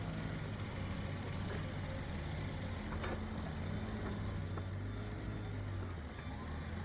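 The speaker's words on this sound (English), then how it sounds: "A pair of forklifts is used here to extract the polyurethane core" Pair of forklifts working to pull a polyurethane foam core out of a large off-the-road tyre, a steady low diesel engine drone with idling rumble and faint clanks throughout, no voices.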